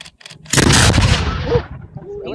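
A historic cannon at Fort McHenry fires a single deafening blast that booms and rolls away over a couple of seconds, with brief voices afterward.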